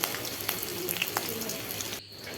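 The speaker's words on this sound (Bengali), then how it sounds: "কাঁচা লঙ্কা কালো জিরে ভালোভাবে ভাজা হলে" Green chillies and nigella seeds sizzling in mustard oil in a wok on a gas stove, a bright crackling fry with scattered pops that drops off abruptly near the end.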